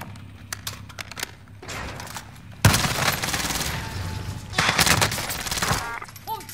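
Gunfire in the shooter game Warzone, with scattered shots and short bursts early on, then a loud sustained automatic barrage with a second heavy burst later, close and dominant, and faint voices between the shots.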